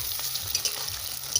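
Green peas fry in a pan of hot oil with a steady, close sizzle and crackle and a few scraping stirs, with no voices.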